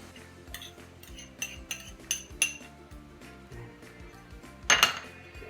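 A spoon clinks and scrapes against a bowl while tuna pie filling with mayonnaise and onions is mixed, in a series of sharp, irregular knocks and a louder clatter near the end, with no talk.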